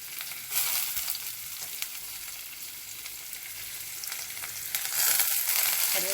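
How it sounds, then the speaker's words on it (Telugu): Black pepper, garlic pieces and curry leaves frying in hot oil for a curry, a close, steady sizzle with crackling pops that swells louder near the end, no voices. "కరివేపాకు అన్నీ వేసుకొని బాగా వేయించుకోవాలి."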